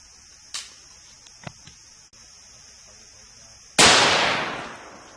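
.223 rifle round fired at a steel plate: one sharp, loud crack with a ringing decay, after a few faint clicks and taps outdoors.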